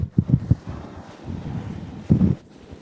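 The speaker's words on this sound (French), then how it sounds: "On va vaincre ce vent, même si c'est la dernière chose que je fais." Wind blows across a bridge in the Florida Keys, buffeting the microphone in low, rumbling bursts with a softer steady rush between gusts.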